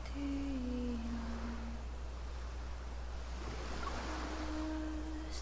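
Ocean waves in a video game: a steady, soft wash of surf with a low constant hum and faint tonal game sounds, no talking.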